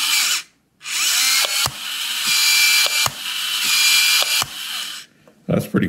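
A small electric motor in a Heng Long RC toy tank whines loudly in bursts, stopping and restarting with mechanical clicks and rattles between runs, close up.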